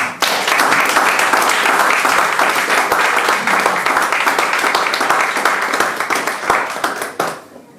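A church congregation breaks into sustained, loud applause that fills the room steadily for several seconds, then trails off at the end, with no talking over it.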